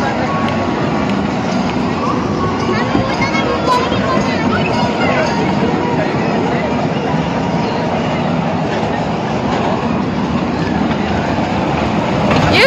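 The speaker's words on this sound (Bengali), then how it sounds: "ইউশি ট্রেনে উঠেছে।" Train wheels rumble and clatter steadily on the rails throughout a ride at an Eid outing, a broad continuous roar with faint rhythmic clicks, with some voices faintly mixed in.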